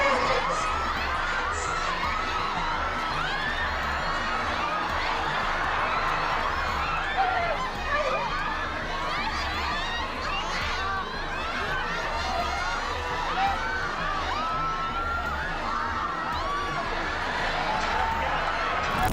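Thousands of Michael Jackson fans waiting outside his hotel, a dense, continuous roar of screaming and shouting voices that stays loud and unbroken throughout.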